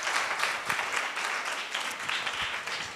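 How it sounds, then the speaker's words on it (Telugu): A church congregation claps hands together, a dense continuous patter of many hands at moderate volume, filling the space without a break. "సంతోషంగా అందరూ గట్టిగా చప్పట్లు కొడుతూ దేని మహిమపరుద్దాం"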